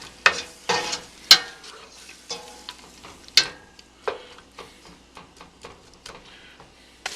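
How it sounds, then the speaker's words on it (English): Onions sizzling in bacon fat in a pot for cream of potato soup, a soft steady frying hiss broken by sharp scraping and stirring clatters from a utensil against the pot. "I've been simmering my onions for about 3-4 minutes."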